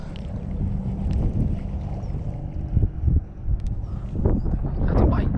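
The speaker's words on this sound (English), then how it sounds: "Oh, that's the wind." Wind buffeting a microphone outdoors near the water, a continuous low rumbling roar with gusty swells and rustling, loud and close, with faint voices beneath.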